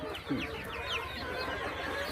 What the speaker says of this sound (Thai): สสามสี่ตัวนี้เป็นไก่กระดูกดำนะครับ